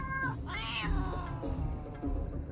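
Cartoonish cat meows in the video game CopyCat, two drawn-out, rising-and-falling yowls in quick succession with a rumbling game background underneath, loud and close.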